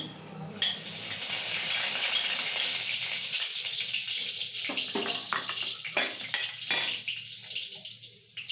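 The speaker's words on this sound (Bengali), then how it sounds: "এরপরে ফোড়না দিচ্ছে গোটা জিরে" Whole cumin seeds sizzling in hot oil in a kadai for tempering masala potatoes, with a steady close hiss that fades slightly, broken by a few clinks and knocks of utensils.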